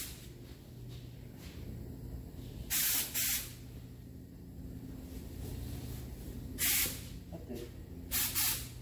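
Spray gun applying SEM vinyl dye to a worn 40-year-old car top, with three loud hissing bursts of about half a second each standing out over a low background hum and faint talk.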